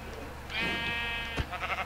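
A sheep bleats in Minecraft on the PS4 edition, one drawn-out, wavering bleat in the middle of the clip, fairly close and clear, followed by a short thump and some game noise.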